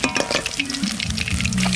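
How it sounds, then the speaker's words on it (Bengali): Ghurisha fish frying crisp in a hot pan, a steady close sizzle with light stirring clatter running continuously without pause. "কড়া করে মাছটা ভেজে নিলাম"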